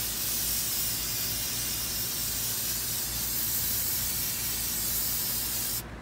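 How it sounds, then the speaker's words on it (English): A steady hiss of an aerosol spray paint can spraying continuously, close and loud, cutting off near the end. "So we're just gonna go like this, spray."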